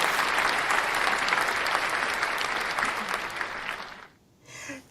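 Audience applause fills the room, a dense steady clapping from a crowd that fades and stops just after four seconds, followed by a brief faint sound.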